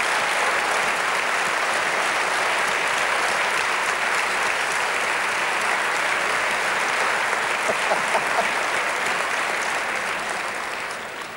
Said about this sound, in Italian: Questo è un applauso.